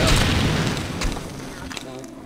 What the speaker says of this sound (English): Don't mind the explosion,